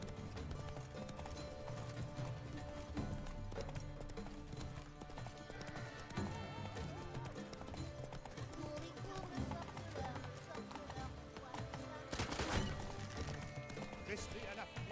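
Horse hooves clip-clopping at a run in The Witcher 3, a steady busy rhythm under game music and effects, with a loud crash near the end.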